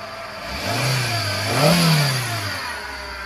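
A flood-damaged Hyundai Santro engine runs with water having reached its AC compressor: a close, steady motor hum swells into a single rev midway, then settles back, with no talking.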